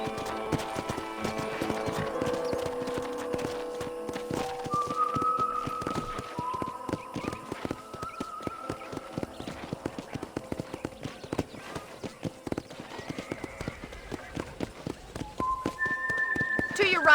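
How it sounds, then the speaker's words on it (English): Horse hooves beat a steady, rhythmic clip-clop in the Red Dead Redemption video game, with voices talking over them and occasional tonal game sounds. "let's see if you can still ride a horse"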